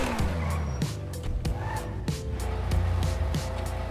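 In GTA 5, a garage gate opens and a car pulls in to park. Engine revving and tire sounds mix with clanks from the gate, and someone talks over it.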